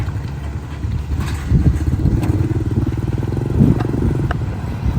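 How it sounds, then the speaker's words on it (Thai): A saleng, a motorcycle fitted with a sidecar, runs close by with a steady, rumbling engine that swells slightly as it pulls up, heard on its own. "น้องน้อยขี่ซาเล็กมาฮับเลย"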